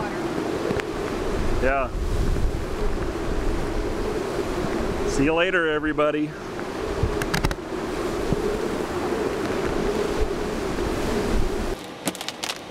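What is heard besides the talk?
strong wind and waves on the shore during Hurricane Isaac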